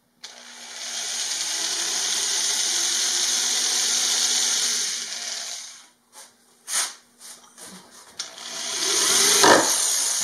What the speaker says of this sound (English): the next step is to reinforce it with a few screws